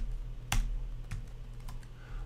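A few scattered, close keystrokes tap on a computer keyboard, one sharper click followed by lighter ones, over a steady low electrical hum.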